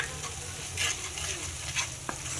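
Egg curry masala being stir-fried in a pan, with steady soft sizzling and a few scraping stirs of a spatula. The cooking sound is close and quiet, and no one speaks.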